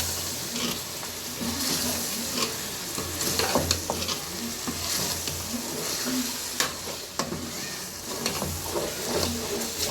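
A spatula scrapes and stirs through green chilli chicken sizzling loudly in a pan, with repeated clanks against the metal over a constant frying hiss.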